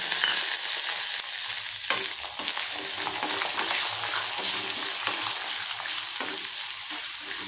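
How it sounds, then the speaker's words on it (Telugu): Ginger frying in a pan for chutney, a continuous close, bright sizzle with faint stirring scrapes and small crackles throughout, no voices. "అల్లం కూడా ఒక 5 నిమిషాలు వేపించుకుని పచ్చివాసన పోయేదాకా వేపించుకోవాలి"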